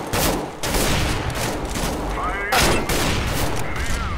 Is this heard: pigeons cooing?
no